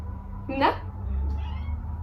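A small pet cat gives a single short meow near the middle, fairly close and clear over a low steady indoor hum.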